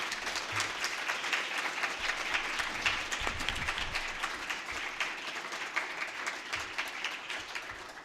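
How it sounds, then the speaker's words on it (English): At a League of Women Voters forum on human trafficking, the audience applauds the speakers with a steady, somewhat distant clatter of many hands that tapers slightly toward the end. "Let's give a big round of applause to our speakers."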